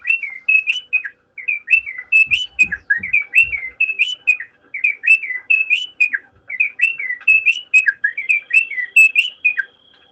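A wood wren sings in Colombia, repeating clear, rich whistled phrases in a steady rhythm. The phrases come close and loud, with brief gaps, and no voices are heard.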